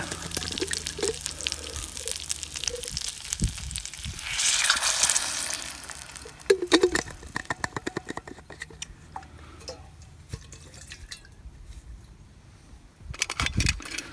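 Water splashes and rushes into a hot cooking pan, with a brief hiss, followed by clinks and clatter of cookware.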